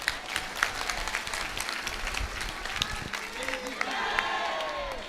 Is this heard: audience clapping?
yes